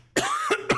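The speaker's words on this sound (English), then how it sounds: "I'm sorry I'm coughing, you guys." A single person coughs three times in quick succession, harsh and close, with the first cough the longest and two shorter ones following.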